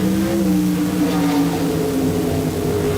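A drag racing truck at Thunder Valley Raceway Park accelerates down the strip in a sustained, loud engine roar with steady harmonic drone, heard at a distance throughout.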